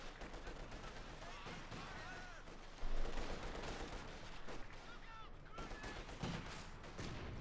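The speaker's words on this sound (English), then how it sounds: "North, they're grenades going off." Grenade blasts and rapid gunfire from a Company of Heroes 2 battle, with dense overlapping shots and a louder explosion burst early on, continuing as a busy, sustained clatter.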